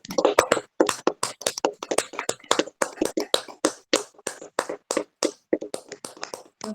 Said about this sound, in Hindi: आइए एक ऊंचे ताली के साथ परमेश्वर का धन्यवाद करेंगे